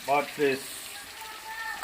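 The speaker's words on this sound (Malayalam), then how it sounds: "ബാറ്റിസിലേറ്റ്സ് ബിരിയാണിക്ക് വേണ്ടിയുള്ള ചിക്കൻ വറുത്തുകൊണ്ടിരിക്കുന്നു" Chicken pieces fry in oil for biryani, a brief close sizzle with soft crackling, and a short voice sound opens the moment.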